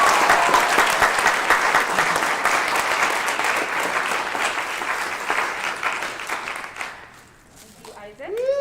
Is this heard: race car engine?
no